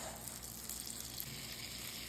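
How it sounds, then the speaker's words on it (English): Half a stick of butter melts into hot sausage grease in a cast iron pan, giving a steady, even sizzle that holds close and constant without pause. "now we're gonna add half a stick of butter to our sausage grease"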